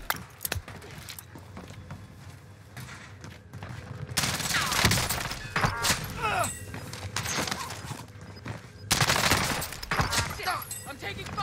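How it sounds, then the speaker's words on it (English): Warzone Rebirth Island gameplay with repeated bursts of automatic gunfire, some near and loud and some farther off, mixed with footsteps and game ambience across several seconds, with no speech. "Stop. I'm taking fire."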